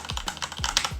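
Typing on a Logitech G915 Lightsync clicky wireless RGB keyboard: a quick run of sharp, close key clicks in an uneven rhythm, heard alone with no voices.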